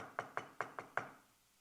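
Five sharp knocks hit a door in an even rhythm, each one close and distinct with a short decay, and quiet follows.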